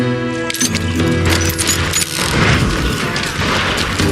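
Gunfire in the Western shooter Call of Juarez: Gunslinger, a loud dense run of overlapping shots and booms with clattering mechanical noise, continuing throughout without speech.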